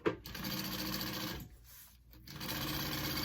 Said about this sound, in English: So I'm just going to sew that around. I'm going to baste it.